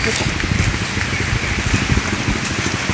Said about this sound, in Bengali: এই বাগানের ভিতর হালকা হালকা বৃষ্টি নামতেছে